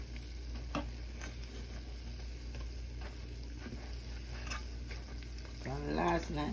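Jamaican fried dumplings cooking in hot oil give a faint, steady sizzle with scattered soft taps from stirring, and a burst of louder clatter near the end.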